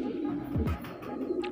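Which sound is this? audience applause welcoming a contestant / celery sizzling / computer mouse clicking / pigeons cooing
pigeons cooing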